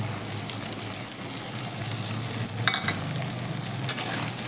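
Chili spice paste sautés with taro and potatoes in a pan for a fish curry, making a steady loud sizzle broken by sharp scraping stirs and clinks, with no talking.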